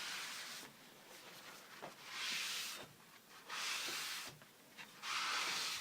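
Shop towel wiping surface rust off a cast iron surface, with repeated broad rubbing swishes in three or four strokes, close and moderately loud, with quiet pauses between them.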